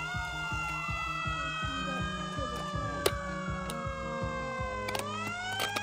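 Toy fire engine siren from a Hot Wheels downtown fire station playset, a steady electronic wail with warbling tones that sweep and repeat continuously at close range, accompanied by rhythmic clicking, with no talk.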